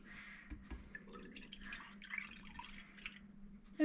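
Milk poured from a bottle into a pot while making hot chocolate, heard as a soft, uneven trickle of dripping liquid with faint kitchen background and no talking.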